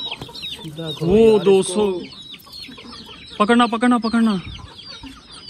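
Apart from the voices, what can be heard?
hens clucking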